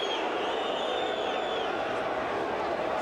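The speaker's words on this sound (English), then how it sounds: "And you can hear what the crowd thought of that." A football stadium crowd at an Australia versus Brazil match reacts to a no-foul call with a loud, sustained roar that holds steady for three seconds, with no voice standing out.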